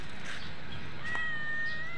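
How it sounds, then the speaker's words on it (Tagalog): A cat begs for food with a plaintive meow, a single drawn-out cry that comes through clearly over faint background noise, close to the listener. "Yung isa naman yung pusa, makulit. Kamukha ng pusa ko yan sa Samar. Humihingi ng pagkain."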